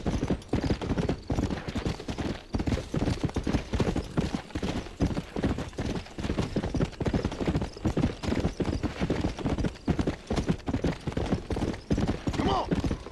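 A galloping horse in the Red Dead Redemption Undead Nightmare video game pounds out a fast, steady run of loud hoofbeats, close and continuous with a faint neigh near the end.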